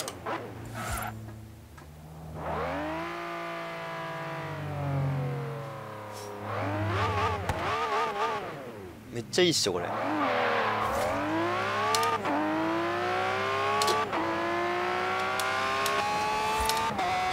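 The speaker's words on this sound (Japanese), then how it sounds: "ほんとエンジン音がいいんですよね。" Lamborghini Aventador SV V12 engine in Forza Horizon 3, revving and accelerating with rising harmonic sweeps, brief dips between gear shifts, then a sustained loud high-rpm roar; a voice speaks briefly over it.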